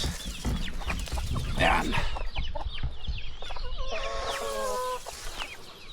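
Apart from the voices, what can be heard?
chickens clucking in coop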